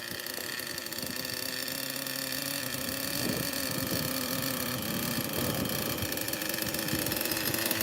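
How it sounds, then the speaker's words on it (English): A small HPI Super Nitro RS4 radio-controlled car with a PICCO 12 nitro engine with poor back pressure runs steadily, a close, continuous buzzing drone with slight rises in revs and no talk. "As I give it RPM, I can hear the back pressure is bad."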